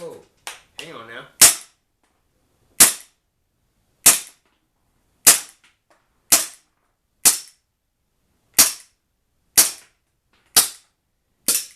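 An APS ACP Glock gas pistol converted from CO2 to green gas fires about half a magazine, roughly a dozen sharp, loud, evenly spaced pops about a second apart, with a few quick handling clicks before the first shot.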